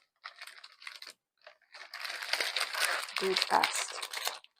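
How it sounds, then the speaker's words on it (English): Plastic packaging for a cross stitch kit is crinkled and torn open in short bursts, close and crisp, building into a longer rustling stretch, with a brief spoken phrase over it. "sorry about crinkling"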